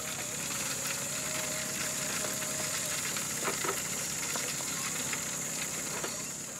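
Roast lamb cooks on a barbecue at a campsite, giving a steady, close sizzling and hissing with a few faint pops and clicks and no voices.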